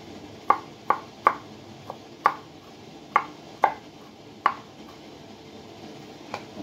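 A knife slices garlic on a board, producing about nine crisp, distinct taps at an uneven, unhurried pace, close and clear over a quiet room.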